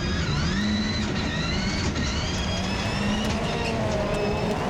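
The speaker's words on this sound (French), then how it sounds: "Il ne parvient pas à décrocher Damien Meunier qui vient d'entrer dans le joker" Rallycross race cars at a French rallycross round, several engines revving and shifting with rising and falling whines, loud and continuous as they drive around the track.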